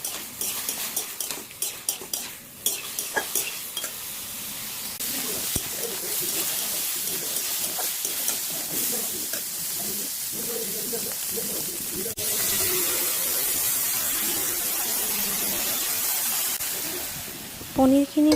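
Paneer frying in butter with garlic in a wok, beginning with clinks and scrapes of a utensil, then settling into a steady, close sizzling hiss that grows slightly brighter toward the end.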